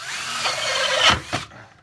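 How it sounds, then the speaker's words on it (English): A power drill bores a hole for a float valve in a DIY automatic chicken waterer, making a loud close whine that rises, bites briefly twice, then stops abruptly. "and then I drill the hole there"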